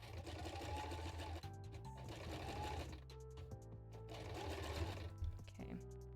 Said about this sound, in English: we're just going to be sewing this whole thing